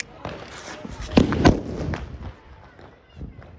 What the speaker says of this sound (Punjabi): ਹੁਣ ਛੋਟੇ ਗੋਲੇ ਨੂੰ ਚਲਾਉਂਦੇ ਹਾਂ